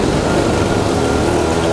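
Several scooter engines run together at a riders' gathering in Bandung, Indonesia, during an engine check, making a loud, steady, rough drone with a low rumble and no pauses.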